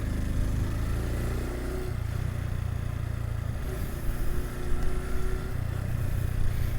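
A Honda Super Cub motorcycle rides along a road, its small engine giving a steady, close drone that rises slightly in pitch partway through, mixed with wind rush and no voices.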